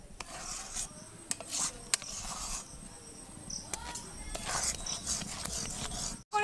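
Cow's milk cream (sar) is stirred in a pot over low heat in a village kitchen, with soft scraping and rasping strokes and occasional utensil clicks against the pot, fairly quiet.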